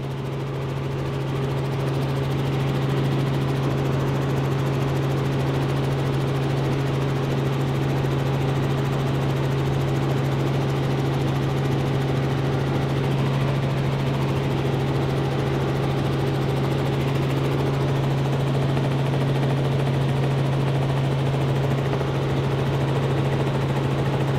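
A steady, droning news helicopter engine hum overhead with a constant low rotor tone, continuous and unchanging throughout, no voices, during aerial coverage of a large anti-nuclear-restart rally in Fukuoka, Japan.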